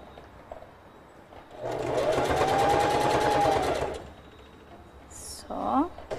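A sewing machine stitches fabric in one steady run of rapid, even needle strokes lasting about two seconds. It sounds close and fairly loud, with a little quiet handling noise before and after.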